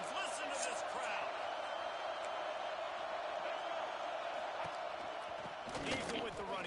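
Football stadium crowd on a broadcast, a loud, steady roar of many voices filling the whole stretch, with a brief swell near the end.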